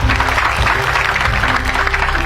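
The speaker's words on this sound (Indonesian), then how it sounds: "Tepuk tangan dong buat beliau." Audience applause at a live roasting comedy show, loud continuous clapping from a crowd that fills the room, with a low hum and some voices underneath.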